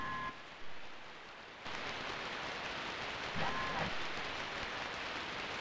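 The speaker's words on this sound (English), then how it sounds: "It's raining outside." Steady rain falls outside in the Dreamweb game, a continuous hiss that swells after the first couple of seconds and holds throughout, with a brief tonal blip in the middle.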